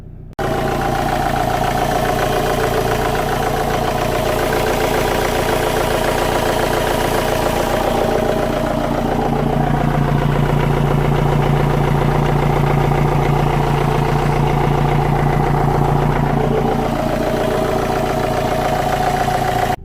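A BMW X3 2.0d diesel idles with its bonnet open, heard up close as a steady, loud rumble with a faint intake noise from a fault that has the engine light on. It runs unbroken throughout, with no talking.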